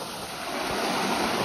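Water from a hot spring above 50 degrees flows in a dense, continuous rushing hiss, close and fairly loud, with no voices over it.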